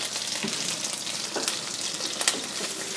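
Shrimp frying in a pan, a steady close hiss and crackle of sizzling oil with small pops throughout.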